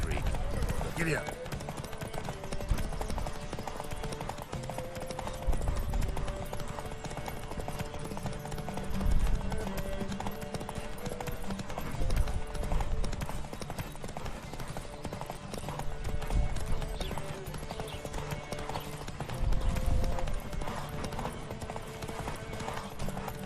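Rhythmic hoofbeats of galloping horses pound steadily during a horse race in the video game The Witcher 3: Wild Hunt, with occasional whinnies and voices talking over a busy game soundtrack.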